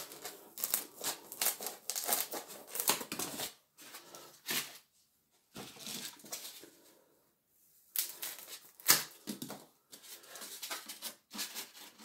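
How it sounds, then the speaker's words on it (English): Scissors snipping through material for a 1/12 scale Star Wars cantina diorama, a run of short crisp cuts and rustles in bursts with brief pauses, close and fairly loud with no talk. "I'm just getting a pair of scissors"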